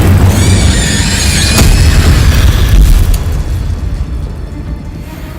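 Incendio fire spell blast in Hogwarts Legacy, a loud booming burst with a roaring fiery rush and a sharp crack midway, then a fading rumble as the blaze dies down.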